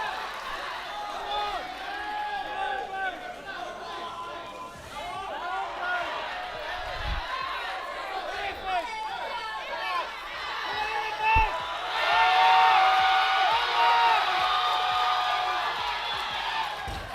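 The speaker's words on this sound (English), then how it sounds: "You can hear the crowd behind him." Crowd at a men's 120+ kg classic powerlifting championship cheering a lifter's final deadlift attempt, a steady roar with whoops that swells louder near the end, with a commentator talking over it.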